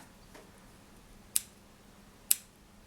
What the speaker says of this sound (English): grab a pair of scissors and just snip that cord